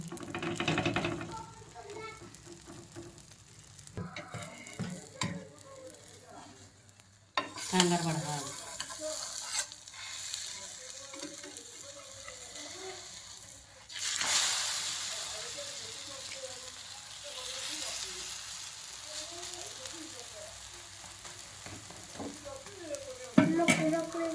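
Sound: onions frying in a pan

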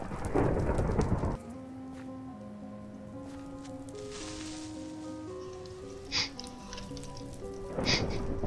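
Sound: thunderstorm with lightning and rain in video game Minecraft

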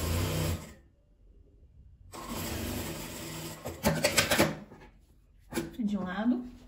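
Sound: sewing machine stitching fabric strips for patchwork table runner

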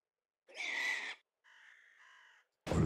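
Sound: birds in a farming video game

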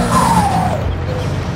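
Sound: Hino 500 dump truck braking in Farming Simulator 22 video game

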